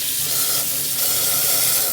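Water runs steadily from an old tap at a server station in the dining area of an abandoned restaurant, a constant close rushing hiss with no voices.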